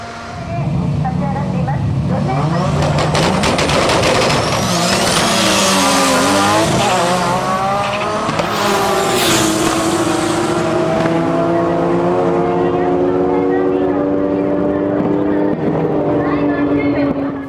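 An Escort-built Nissan R32 running 3037S turbos, its engine sounding loud and continuous with rising and falling revs and tire noise, while voices talk over it throughout.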